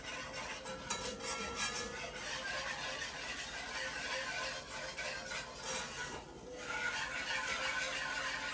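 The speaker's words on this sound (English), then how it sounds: "I'm going to keep whisking for just another few seconds." A whisk scraping steadily through thickening buffalo wing sauce in a pot, a continuous close rasping rub with a brief dip near the end, made while canning wings for long-term food storage.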